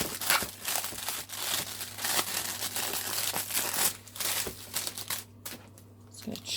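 Clear plastic wrap crinkled and taped around a Christmas Eve milk bottle for Santa, a steady close rustling and crackling throughout, with a few sharper crunches and tape snaps, no talking.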